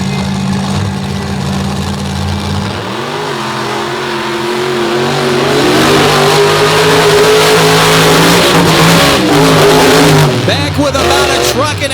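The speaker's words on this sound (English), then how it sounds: "Monsters on the Beach 2022, the championship race for show number 3. They are staged and ready to go." Monster trucks race side by side on a rainy Virginia Beach course, engines idling then surging into loud, roaring acceleration that builds and holds before easing off, with an announcer's voice mixed in.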